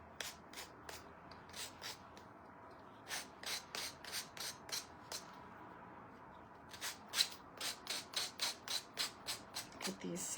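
Hand sanding of small wooden furniture pieces: rapid rhythmic rasping strokes in bursts, fairly close but soft, with brief pauses between sets.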